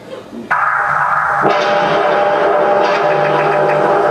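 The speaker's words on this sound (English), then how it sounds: "This sound is a manhole cover pitched way down." A deep, drawn-out metallic clang of a manhole cover, pitched way down, rings with a low resonance, sustaining steadily after a sharp initial hit.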